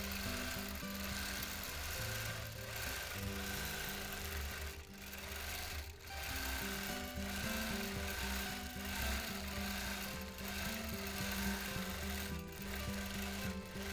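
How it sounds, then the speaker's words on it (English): Sewing machine stitching free-motion quilting, moving right to left, a fast steady mechanical whirr with rhythmic needle clatter, briefly dipping or pausing twice before running on close and alone. "This one I'm quilting from right to left."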